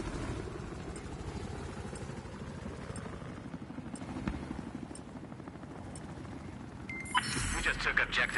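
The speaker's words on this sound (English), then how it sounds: "There's an enemy helicopter operating east of where you're at." An enemy helicopter in the video game Battlefield 4 gives a steady, throbbing rotor and engine drone through the scene, moderately loud and mixed with other game noise. A sharper burst of activity comes near the end.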